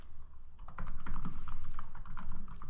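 Rapid, close typing on a computer keyboard, a steady run of soft clacks with a brief pause near the start.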